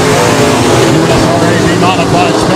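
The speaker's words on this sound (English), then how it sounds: "USRA B-Modifieds under green with heat race number 1 of 3." USRA B-Modified race cars are under green at Rapid Speedway, a loud continuous engine roar from the pack. An announcer talks over it throughout.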